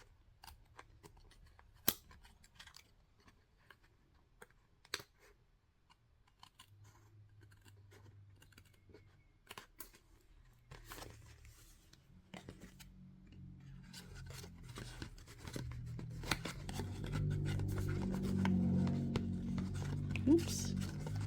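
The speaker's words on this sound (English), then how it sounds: "I'm gonna cut along the black line just like so." Scissors snipping along the black line of a paper template for a candy treat basket, a series of crisp cuts and rasps of varying strength, with a low rumble and occasional talk underneath.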